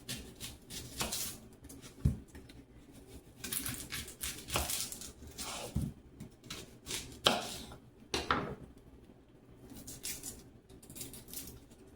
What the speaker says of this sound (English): I'm going to cut up some onion